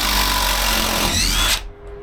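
DeWalt power drill running while a treehouse is built: a loud, close, steady motor whine and grind that abruptly winds down and cuts off near the end, leaving faint background.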